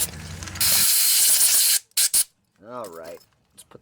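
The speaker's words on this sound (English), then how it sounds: "You can tell if the jets are clear, just spray a little fluid down in there." Carburetor cleaner sprayed into the jets of a Tecumseh lawnmower carburetor gives a loud, steady aerosol hiss lasting over a second, followed by a few short bursts and a brief voice.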